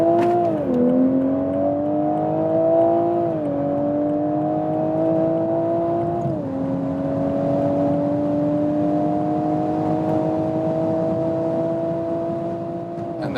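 A Toyota GR Supra accelerates hard on the Autobahn from about 60 km/h. Heard from inside the cabin, the engine drone climbs steadily, with brief dips at each gear change, and a constant road roar sits underneath throughout.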